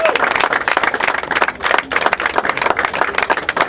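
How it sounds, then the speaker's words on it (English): Audience applause at a political speech event in a restaurant venue, dense steady clapping filling the space loudly throughout with crowd noise and some voices mixed in. "Give a round of applause."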